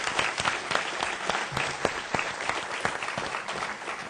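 Steady applause from an audience, many hands clapping continuously at moderate volume with a few sharper claps standing out.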